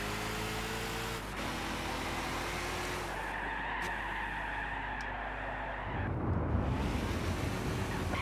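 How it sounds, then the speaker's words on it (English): Race car in Gran Turismo 6 sliding on the road, a steady engine drone with a long tire squeal across the slide, growing louder and rougher near the end. "At least the car can slide a little bit."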